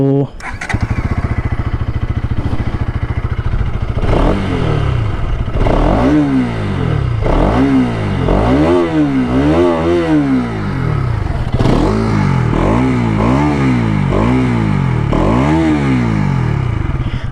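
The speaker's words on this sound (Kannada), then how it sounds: "ಸೊ ಈ ಗಾಡಿ ಎಕ್ಸಾಸ್ಟ್ ನೋಟ್ ನೋಡೋಣ." A Bajaj Pulsar NS 200 BS6 motorcycle with a fuel-injected engine and an underbelly exhaust starts and idles loudly up close. The throttle is blipped repeatedly in rising and falling revs, and a voice talks over the engine.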